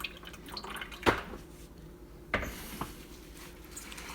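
Water drips from freshly spun harvested lettuce in a salad spinner, a few distinct drops and splashes falling at irregular intervals against a quiet background.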